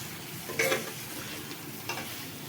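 Chicken sizzles gently on low heat in a pan as it is stirred, with a soft steady frying hiss and a couple of louder scraping stirs, no talking.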